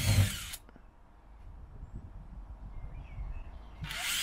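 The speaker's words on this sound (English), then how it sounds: "I'm just using an eighth drill bit here just to pop these holes through" An electric drill with an eighth-inch bit bores holes for self-tapping screws in the body of a Peugeot J9 van, a soft, steady whir near and alone between louder bursts at the start and end.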